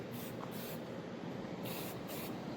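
A vise is spray painted in a single coat, short hissing aerosol bursts repeating in quick succession, close and faint with brief gaps between sprays.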